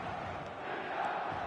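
A stadium crowd in a football video game roars in a continuous, broad wash of cheering at steady loudness, with no clear talk above it.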